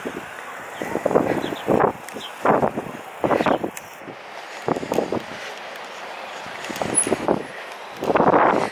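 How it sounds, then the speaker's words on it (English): Gusty wind buffets the microphone in repeated bursts on a coastal promenade between Watchet and Minehead, rumbling and roaring between quieter moments, with faint voices underneath. "It's very windy"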